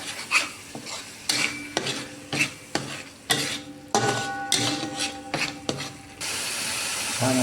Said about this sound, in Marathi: टोमॅटोची पेस्ट घातल्यानंतर ती व्यवस्थित कढईमध्ये परतून घ्यायची आहे.